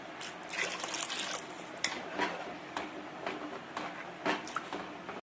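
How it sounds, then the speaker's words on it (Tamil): Water trickles and splashes into a pot of fish curry, a steady liquid pour with a few clinks and taps along the way. "குழம்புக்கு தேவையான அளவு தண்ணி சேர்த்துக்கலாம்."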